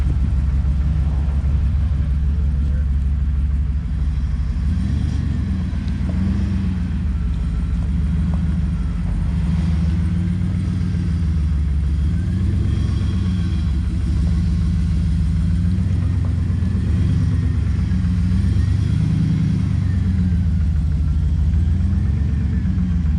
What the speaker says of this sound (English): just firing up his truck